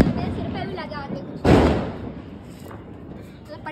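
A firecracker bursts under a bucket during Diwali celebrations, giving a single loud, close bang that fades off quickly, with people talking before and after.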